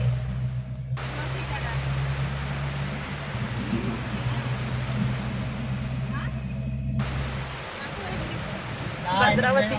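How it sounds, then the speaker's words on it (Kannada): Heavy rain pouring down steadily, a broad continuous wash of noise with a low engine-like hum underneath, fairly near, with brief faint chirps near the end. "ಜೋರು ಮಳೆ ಬರ್ತಾ ಇದೆ."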